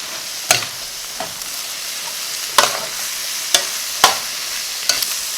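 Garlic and vegetables being stir-fried for chicken fried rice, giving a steady sizzle broken by several sharp scraping stirs at irregular intervals, close and alone without voices.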